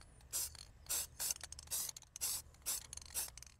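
Spray paint applied outdoors in the evening to a patched crack in vinyl siding, about seven short, close hissing bursts with quiet gaps and faint clicks between them.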